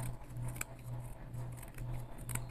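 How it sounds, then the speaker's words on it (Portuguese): Scissors trimming fabric for a sewn Christmas trivet, a few soft close snips over a low steady hum, quiet with no talk. "E aí eu já vou dar uma acertada aqui com a tesoura."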